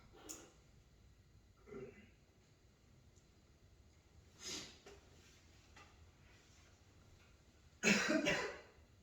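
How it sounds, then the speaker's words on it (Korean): A few scattered, faint coughs in a quiet room, ending with a louder, harsher coughing burst near the end. "기침이 올라와가지고"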